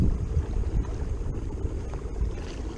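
A motor-driven kayak runs at full throttle while turning against a strong wind on a reservoir, a steady low drone mixed with buffeting wind noise and water sounds, continuous and close, with no talking.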